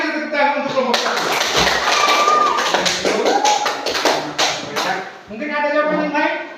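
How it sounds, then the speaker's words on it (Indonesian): A classroom applauds group 1 with a burst of dense clapping that lasts several seconds, with voices talking before the clapping begins and again after it ends. "mari kita tepuk tangan untuk kelompok 1"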